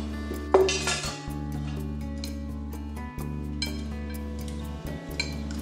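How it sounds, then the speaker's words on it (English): A utensil clinks and scrapes against a pan while vegan spaghetti primavera with vegetables, juice and oil is stirred, a few sharp metallic knocks over a steady low hum from a nearby appliance. "I'm gonna stir it up."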